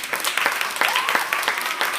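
An audience at a school talent show breaks into sustained applause, a dense crowd of clapping hands filling the room at moderate volume with faint voices mixed in.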